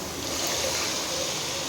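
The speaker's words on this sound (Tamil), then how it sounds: "அந்த தண்ணி நான் ஆட் பண்ணிக்கிறேன்." Water poured into a pan of chicken curry being cooked, a steady broadband wash of pouring and trickling liquid lasting just under two seconds at moderate level, with no talking.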